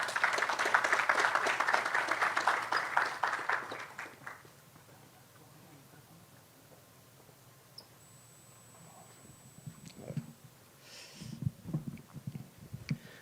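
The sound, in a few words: audience applause welcoming a speaker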